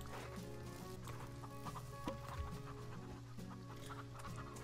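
Several chickens in the Farm Together video game clucking repeatedly in short, scattered bursts over a steady background hum of music, fairly close and moderately loud.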